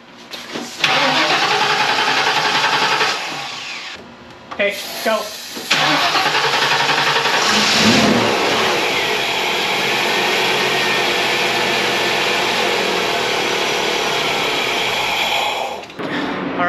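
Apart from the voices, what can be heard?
Ford Mustang engine starting and revving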